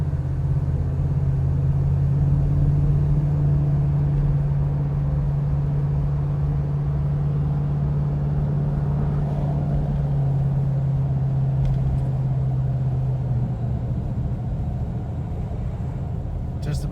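A 1970 Cadillac Eldorado engine hums steadily from inside the car while cruising at about 35 mph in second gear, a smooth continuous low drone throughout with someone talking over it.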